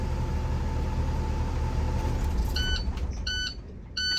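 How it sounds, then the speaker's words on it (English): School bus child check reminder alarm sounds after the bus is switched off, a series of short electronic beeps in quick bursts over a steady low idle rumble that drops away near the end. "That beeping sound is now your No Child Left Behind."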